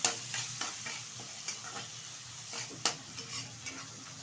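Fried peanuts tossed with cabbage in a hot pan, steady sizzling under repeated scraping strokes of a spatula against the metal, close and fairly quiet.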